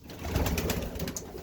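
Pigeons in a backyard loft, one an older cock bird, with a fairly steady low rumble of cooing and soft fluttering, close and moderately loud, with no talk over it.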